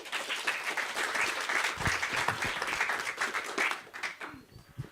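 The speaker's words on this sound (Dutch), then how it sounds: "Applaus" Studio audience applause on a live talk show, a thick, sustained wash of clapping at moderate level that gradually tapers off toward the end.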